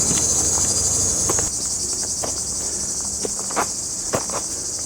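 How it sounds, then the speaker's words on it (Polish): Cicadas shrill steadily on a sunny approach path to the Rino Pisetta via ferrata, a dense continuous buzz with a few faint footsteps and taps underneath. "Cykady pięknie grają."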